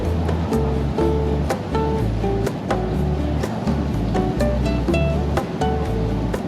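Ocean waves roll onto the beachfront of a resort on Siargao island at low tide, a steady loud wash of surf with no talk over it.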